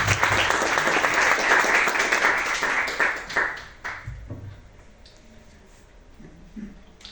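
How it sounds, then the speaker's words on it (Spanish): After a piece at a concert of Spanish medieval music, an audience bursts into loud applause that holds strong for about four seconds, then thins into scattered claps and fades into quiet room noise. "Fuertes aplausos."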